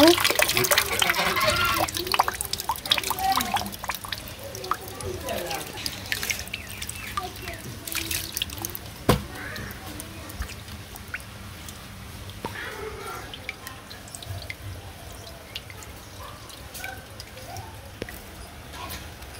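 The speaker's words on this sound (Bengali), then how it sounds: "চালটা আমি ভালো মতো ধুয়ে নিব।" Rice being washed in water for a village-style Eid pulao, with splashing, dripping and trickling in a continuous close wash while people talk over it.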